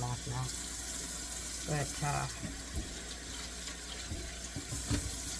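Running tap water pours steadily into a sink while sweet potatoes are rinsed under it, a continuous close splash with occasional knocks and handling sounds, and a voice speaks briefly over it.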